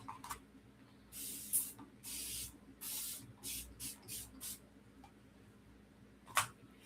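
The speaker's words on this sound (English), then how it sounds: "I am going to mist my ends" A spray bottle mists the ends of hair in a run of quick hissing spritzes, several in a row, then a final burst after a pause. Close and fairly soft, with no speech.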